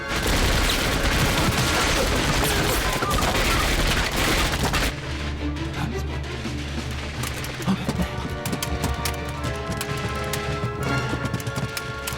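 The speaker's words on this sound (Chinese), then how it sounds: "哎，枪声不对，出事了！" Gunfire in a Chinese-dubbed special forces sniper drama, heard as a dense, loud burst of shots with a booming low end in the first five seconds, then quieter sporadic cracks and clatter under a tense soundtrack.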